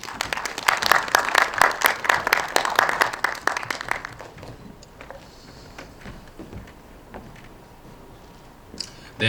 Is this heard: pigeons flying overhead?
no